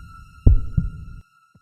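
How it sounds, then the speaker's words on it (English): Heartbeat sound effect in a tense story, a single deep lub-dub thump pair, loud and close over a faint steady hum. "Heart pounding now."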